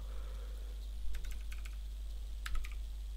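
Keys clatter on a computer keyboard as an SQL query is typed, in two short bursts of quick taps over a steady low hum.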